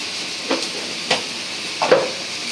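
Masala spices fry in a pan for a village-style Bengali small-fish dish, with a soft steady sizzle broken by three distinct scraping stirs of a spatula.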